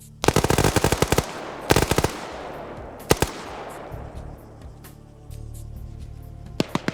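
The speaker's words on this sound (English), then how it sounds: "Nope, that's a stun grenade." Rapid bursts of gunfire and a sharp stun grenade blast crackle through an Arma 3 PvP firefight, several clustered volleys followed by fading echoes and scattered single shots.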